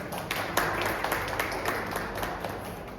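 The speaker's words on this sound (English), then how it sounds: "Please a huge round of applause for them." Audience applause for three guests at a Raw House conversation event, a dense, steady patter of many hands clapping at moderate distance, fairly soft and continuous for the whole stretch without talk over it.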